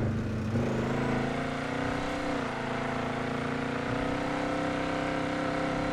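A Dodge Ram 1500 pickup truck in a video game accelerates with a steady, loud engine drone that climbs in pitch through a gear change, with traction control switched off and no voices.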